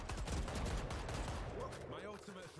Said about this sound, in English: I just noticed he was shooting at me.